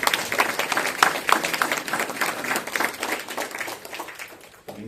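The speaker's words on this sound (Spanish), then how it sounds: "Fuerte los aplausos, por favor." Applause from the audience at the opening session of a Peruvian international law congress, brisk clapping from a crowd that thins out and fades near the end.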